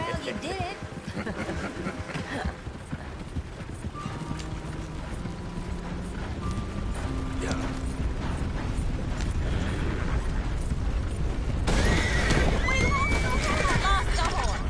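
A horse in the Red Dead Redemption 2 video game whinnies and snorts while hooves clop along a path, with game music and ambient effects underneath and a louder burst of whinnying near the end; someone talks briefly.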